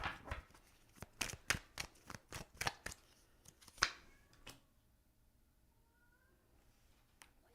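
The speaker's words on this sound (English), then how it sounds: "What is wrong with my cats?" Indoor house cats meowing faintly near the end, after a run of sharp tapping and clicking noises, with no talk.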